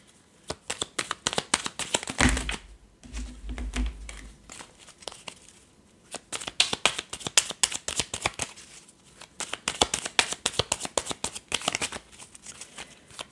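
Tarot cards are shuffled close by in repeated quick riffles and soft papery flutters. A short low rumble breaks in early, and the shuffling is otherwise quiet.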